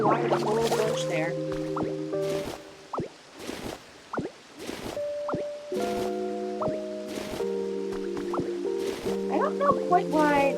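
Soft splashing and dripping as plants are watered in the Pokopia video game, light liquid plops landing in quick bursts over sustained musical game tones, with a voice talking throughout.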